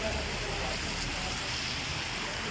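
Steady, dense hiss of rain falling, even and unbroken throughout, with faint low rumble underneath.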